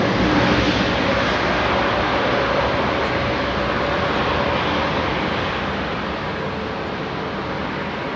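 A Qatar Airways Airbus A380 jet roars steadily at Heathrow, a broad, loud, sustained rumble that fades slightly toward the end with no talk over it.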